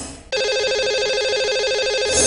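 Telephone ringback tone on a radio call-in line as a show dials a lucky caller, a steady loud ringing pattern that starts abruptly after a moment of background noise and continues alone.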